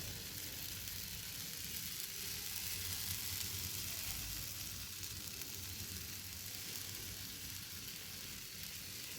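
Wheat-flour lattice samosas frying in hot oil, a steady broadband sizzle that holds evenly throughout, close and moderately loud with no talk.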